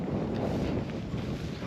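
Steady, blustery wind roars against the microphone on a Northumberland crag, a constant rushing noise with no talking.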